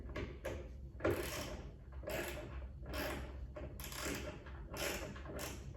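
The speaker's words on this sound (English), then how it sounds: "We're just gonna use that front middle screw and you just tighten it down." Screw being driven and tightened into a ClosetMaid cabinet during assembly, heard as a series of close, rhythmic ratcheting or clicking bursts repeating about once a second, with no voices.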